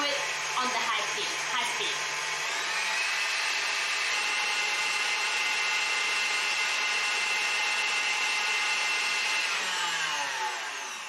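An electric hand whisk whips cream on high speed toward soft peaks for a white chocolate mousse cake, a steady close whirring drone that holds unchanged for about ten seconds with no talking over it.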